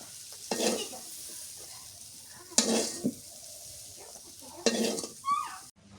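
Long beans and potatoes fry in a pan with a soft, steady sizzle, broken by three distinct bursts of spatula stirring and scraping, each a second or so apart.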